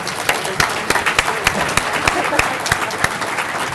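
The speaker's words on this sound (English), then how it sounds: "So one more round of applause for our" Audience applause at an annual meeting: a dense, continuous patter of many hands clapping, fairly close and loud, with a few sharper individual claps standing out over about four seconds.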